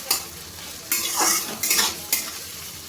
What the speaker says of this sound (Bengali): টমেটো কুচি আর পেঁয়াজ কুচিটা আমি ভালোভাবে ভেজে নেব, একদম লাল করে আমি ভেজে নেব।